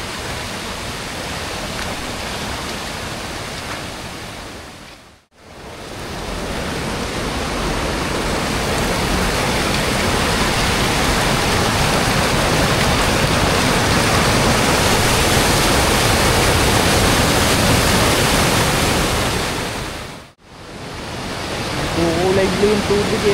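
A waterfall's strong current roars at Pinamun-an Falls in Nagcarlan, Laguna, as a loud, steady rush of water fills the clip. Two brief dropouts break it near 5 and 20 seconds.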